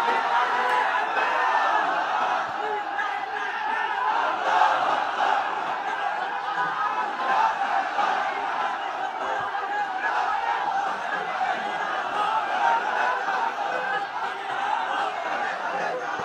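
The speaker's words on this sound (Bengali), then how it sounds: "তাকবীর দেন তো একজন আওয়াজ করে।" Large crowd at a waz sermon raising a loud, sustained collective chant of takbir, a broad roar of many voices swelling and holding steadily for well over ten seconds.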